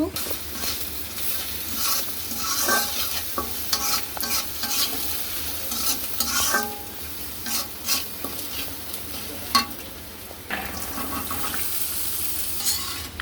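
Chili powder and salt get stirred into a pabda fish curry with potato, pointed gourd and carrot, a busy scraping and sizzling in the pan with repeated spoon clatters, loud and close throughout.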